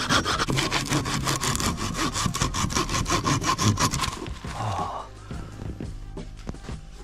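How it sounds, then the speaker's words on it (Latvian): A Fiskars handsaw cuts dry wood with fast, rhythmic back-and-forth rasping strokes, close and loud for about four seconds, then stops and leaves a quieter scraping tail. "Fiskars zāģis, sausais koks."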